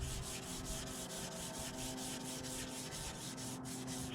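Hand sanding a Solarez finish over stain on a guitar body, a close, soft rhythmic rasp of repeated even strokes, quiet and steady with no talk.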